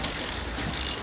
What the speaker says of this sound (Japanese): よし、そしたらもう一本のボルトも外していこうかな。